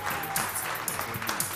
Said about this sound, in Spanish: El aplauso para Raúl